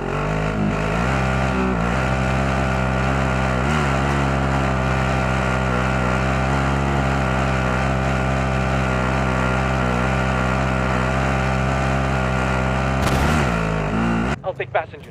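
A vehicle engine drives in Call of Duty: Modern Warfare, a loud, steady droning hum with layered tones that holds for most of the stretch before cutting off abruptly near the end.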